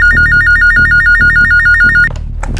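A telephone rings with a loud, close electronic ringtone in a rapid repeating warble, cycling steadily for about two seconds before cutting off.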